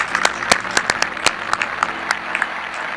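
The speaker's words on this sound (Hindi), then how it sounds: "तो थोड़ा सा तालियों से इसका स्वागत करो" Scattered hand claps from a small open-mic audience at a Hindi poetry event, sharp individual claps at an uneven rhythm over a few seconds, moderately close with no talk.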